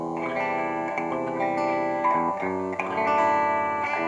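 Electric guitar strummed lightly through a Bugera 1960 Infinium amp, producing sustained ringing chords with distortion and a spacious, reverberant tail, played continuously at moderate volume.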